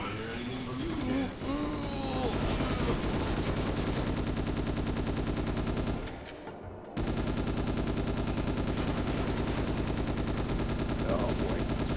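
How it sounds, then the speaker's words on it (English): Rapid gunfire and blasts from grenades in the PS2 game Ghost in the Shell: Stand Alone Complex, a dense, loud barrage that runs almost without a break and drops out for about a second near the middle, with talk mixed in. "That was like grenades"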